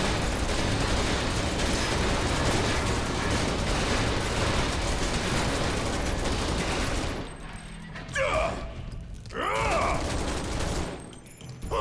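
Sustained rapid gunfire in Final Fantasy VII Remake, a dense continuous rattle of shots for several seconds that suddenly stops, followed by quieter game sounds and sparse rising tones.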